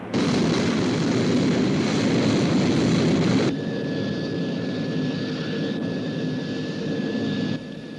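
Sky 1 interceptor aircraft in flight, a loud, steady broadband roar that drops to a lower, even drone partway through, with a thin high whine running alongside.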